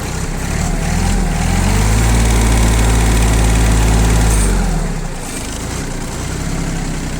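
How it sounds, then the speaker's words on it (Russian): A small Japanese mini tractor engine idles steadily and smoothly, close by, with a low even rumble that eases off slightly toward the end. "Мотор работает очень мягенько, очень качественно."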